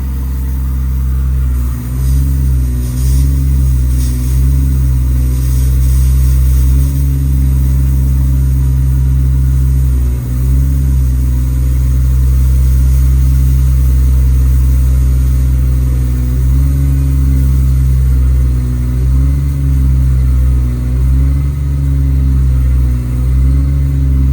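Air compressor mounted on a 2015 Ford F750 truck with a Cummins engine, running as a loud, steady low hum with a rhythmic pulsing chug, close by and continuous.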